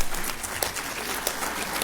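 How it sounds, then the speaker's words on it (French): An audience applauds to welcome a speaker at a public democratic interpellation session, steady crowded clapping that stays even and continuous throughout with no talk. "Il faut l'accueillir par vos applaudissements."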